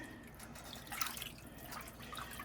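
Red wine is poured into a pot of beef stew, making a quiet, close liquid trickle and splash that swells briefly near the middle and continues softly, with no speech.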